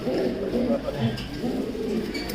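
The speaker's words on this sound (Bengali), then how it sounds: "এবার তো আগের পরে কিছু নতুন কবুতর ঢুকছে" Racing pigeons coo steadily in a loft, soft low throaty calls repeating under a continuous murmur of other birds, with someone talking over them throughout.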